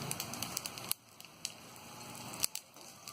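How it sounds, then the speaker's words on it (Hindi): Fennel seeds and green chillies frying in hot oil for poha chivda, giving a soft sizzling hiss with scattered sharp pops and crackles close by. "हरी मिर्च को भी हम हल्का सा फ्राई कर लेंगे।"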